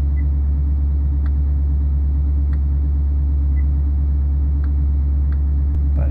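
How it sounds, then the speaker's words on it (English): A Duramax 6.6L diesel truck engine held at elevated idle, a loud constant low rumble with a steady drone and faint ticks, running alone without talk. "Got the elevated idle turned on."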